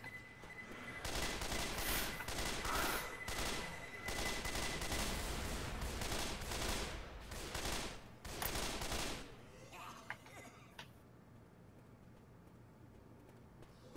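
Bursts of rapid gunfire in the zombie shooter Left 4 Dead 2, repeated volleys of automatic shots that fade into quieter scattered sounds toward the end, with players talking faintly underneath.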